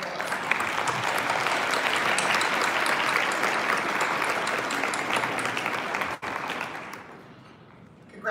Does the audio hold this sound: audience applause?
yes